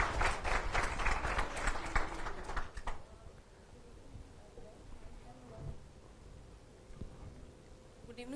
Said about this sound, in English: Guys, clap.